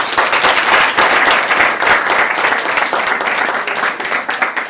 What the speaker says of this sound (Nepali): उहाँको लागि एउटा ताली बजाइदिउँ त